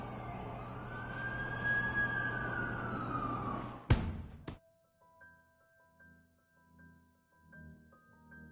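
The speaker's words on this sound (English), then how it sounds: "That's the ambulance I called." An ambulance siren in Amazing Spider-Man 2 wails in a rising and falling sweep for about four seconds, then cuts off with an abrupt thud, leaving quiet electronic tones.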